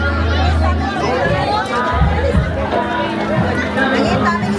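Festival crowd at the Kumbira Festival in Compostela, Cebu, a dense, steady babble of many voices chattering together nearby, continuous and fairly loud throughout.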